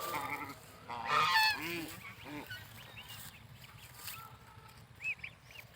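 Domestic village geese feeding on fallen paddy in harvested haor rice fields honk in a loud cluster of calls early on, followed by scattered, fainter honks.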